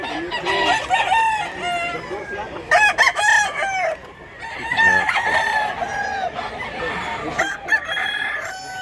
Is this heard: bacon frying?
no